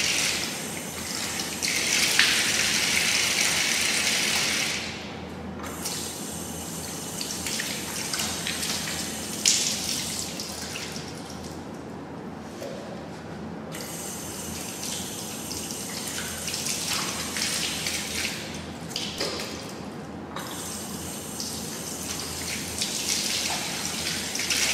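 Tap water running steadily into a basin while hands are washed for ablution, a close, continuous splashing gush that shifts in tone as hands move through the stream, with brief drops in flow.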